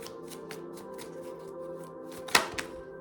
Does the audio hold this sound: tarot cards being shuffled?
yes